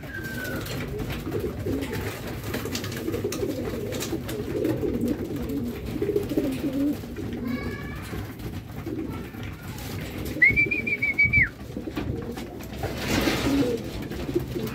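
Racing pigeons coo softly in a loft, with a few low repeated coos and scattered wing and background rustles, plus one brief higher call partway through, all fairly faint.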